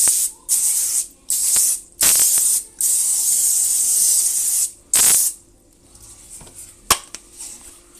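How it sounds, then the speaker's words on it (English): Pam cooking spray hisses from an aerosol can in several loud, close bursts of varying length, followed by a few light clinks of kitchen handling. "A little bit of olive oil, Pam spray."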